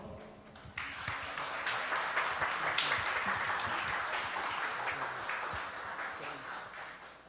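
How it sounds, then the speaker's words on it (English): An audience at a student music recital claps for the performers, a steady, even wash of applause that starts suddenly and carries on for several seconds at moderate distance. "let us all give our recitalists a round of applause"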